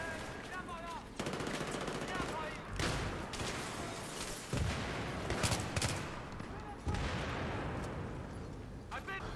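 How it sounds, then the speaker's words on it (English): Light machine gun fire in the Battlefield 3 co-op mission "Terrorist Stock Exchange," loud repeated bursts with other gunshots and explosions in a busy game soundscape, with a voice talking over parts of it. "light machine gun."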